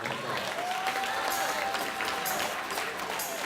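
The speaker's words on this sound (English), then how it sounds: "Give Jorge Flores a round of applause" Polite applause from an audience at an awards breakfast honoring a community volunteer, a soft, even patter of many hands at moderate distance with a faint voice threading through.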